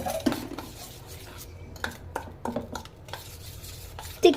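A spoon stirs thick cashew paste in a bowl, scraping and clinking against the sides in irregular strokes, close and fairly loud.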